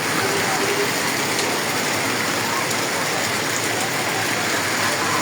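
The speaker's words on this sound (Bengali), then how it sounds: "স্বস্তির বৃষ্টি।" Heavy rain falls steadily over farmland, a dense, loud, unbroken hiss that holds the same level from start to finish.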